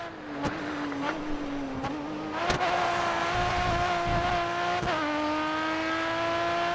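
A race car engine runs at full throttle in GRID Autosport, a loud continuous whine that climbs in pitch through several gear shifts, with brief sharp clicks at the shift points.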